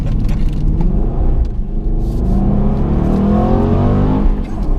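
An Aston Martin AMR with a modified exhaust drops to first gear for a tight Monaco hairpin. Its deep engine rumble burbles and rises steadily, loud and close, with no talking.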